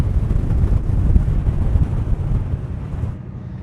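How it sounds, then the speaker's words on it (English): Strong wind buffets the microphone outdoors on a chilly coast at Long Beach, a loud, continuous low rumbling roar with gusty surges, easing slightly toward the end, no voices. "It's a bit windy here."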